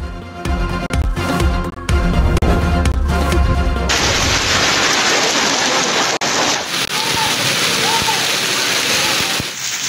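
Steady rain falls in Khyber Pakhtunkhwa, a dense, loud hiss of water that takes over after a music bed fades out and continues alone to the end.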